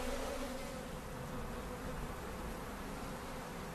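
Honeybee drones from a colony with a high varroa load buzz in a continuous, dense hum, steady and close throughout with no pauses.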